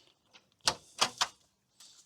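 An inner door being opened, a few quick close clicks and rattling knocks of the latch and hinges, then a faint scrape as it swings.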